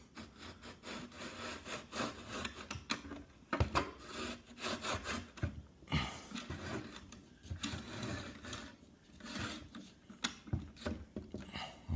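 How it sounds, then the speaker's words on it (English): A light fixture scrapes and rubs against a ceiling while being fitted during a home installation, giving a continuous gritty, uneven scraping with sharper knocks, close and fairly quiet, with no talking. "we're scraping the ceiling"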